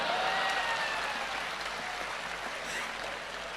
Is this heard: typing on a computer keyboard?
no